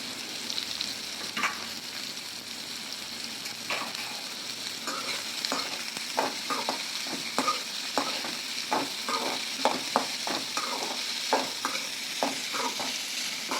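Finely chopped onions fry in oil with fennel seeds for prawn gravy, a constant sizzle while a spoon scrapes and stirs the pan in quick, repeated strokes.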